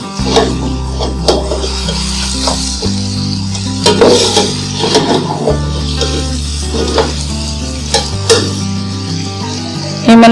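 Meat for masala pulao fries in a pot with a loud, steady sizzle. A spoon stirs and scrapes against the metal pot again and again, with background music running underneath.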